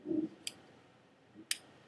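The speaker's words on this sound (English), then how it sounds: "using the scissors to cut away at that connective tissue" Small scissors snip through frog skin and connective tissue during a dissection, two quiet, sharp, isolated clicks spaced about a second apart in a near-silent room.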